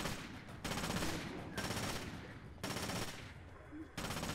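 In Splinter Cell Conviction, gunfire comes in repeated bursts of fast automatic shots at low volume. Each burst lasts about a second, and short gaps separate them.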